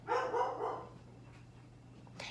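Dogs bark indoors in a short burst of two or three loud, close barks, then the room falls quiet apart from a faint hum, with a brief noise near the end.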